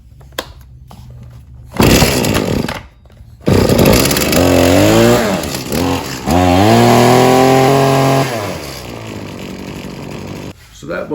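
Husqvarna 525P4S pole saw's small two-stroke engine, its carburetor and fuel system newly repaired, sputters to life after pull-starts and then revs loudly at close range, rising and falling in pitch before cutting out.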